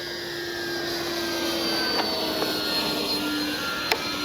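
A Dynam F6F Hellcat RC warbird's electric motor holds a steady high whine as it climbs out, with a constant buzzing drone and a few faint clicks.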